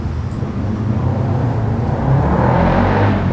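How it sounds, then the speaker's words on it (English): Loud cars pass on a road behind an outdoor spot on a sunny afternoon, making a continuous broadband traffic roar that swells toward the end as one vehicle draws nearer. "I apologize for the loud cars behind me."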